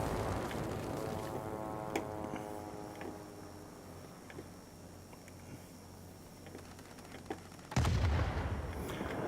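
Rapid machine-gun bursts from the nose guns of a Ju 87 Stuka in World of Warplanes, sharp repeated reports over a steady engine drone, with a louder burst near the end.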